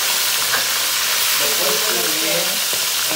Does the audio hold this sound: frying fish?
yes